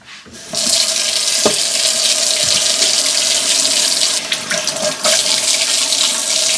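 A sink tap turned on and running, a loud, steady close rush of water that starts abruptly and continues with slight splashing changes, no talking.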